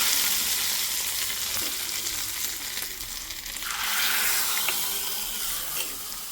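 Hot coconut oil tempering with urad dal, mustard seeds and curry leaves is poured into Mangalore cucumber sambar, giving a loud, close, continuous sizzle that surges brighter midway and then settles.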